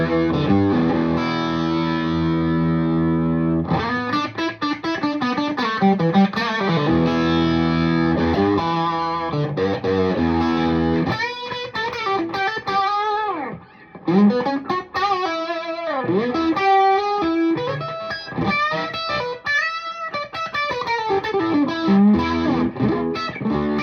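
A Telecaster played through the dirty channel of an Orange Rockerverb 50 MkII amp with the reverb barely on, giving loud distorted chords and riffs that ring out continuously for over twenty seconds with no talking.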